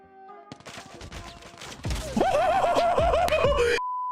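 Sniper rifle fire in the mobile shooter Call of Duty Mobile, heard amid loud game action: several sharp shot-like bursts with pitched, whinnying sound effects, dense and close, then a steady tone at the end.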